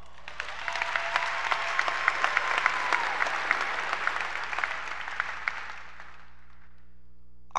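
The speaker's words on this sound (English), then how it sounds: "we deserve to give ourselves a quick round of applause" Graduation audience at a 2021 high school ceremony applauds steadily for about six seconds, a dense wash of many hands with sharp individual claps, then fades out to near silence.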